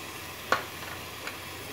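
Spices, turmeric and coriander powder among them, sizzle softly as they are added to ragda in a pan, a faint steady fry with a couple of sharp ticks from a stirring spoon.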